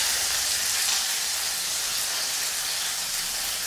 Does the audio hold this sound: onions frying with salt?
yes